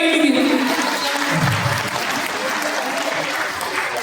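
Audience applause at a Senior Citizen's Day celebration, a steady wash of many hands clapping throughout, moderately loud and close, with a brief voice murmuring beneath it.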